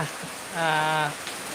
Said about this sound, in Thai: ฝนตกครับ อยู่พัทยา